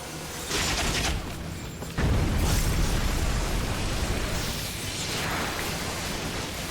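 Feather Rain attack explosions in the online game Final Fantasy XIV; a loud burst at about two seconds followed by sustained noisy rumbling and crackling, with an earlier shorter burst, no talking.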